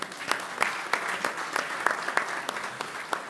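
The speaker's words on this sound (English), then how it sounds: "Nous allons applaudir." Audience applause after a speaker at an international forum session, a steady patter of many hands with a few sharper claps standing out, moderately loud and continuous, with no speech over it.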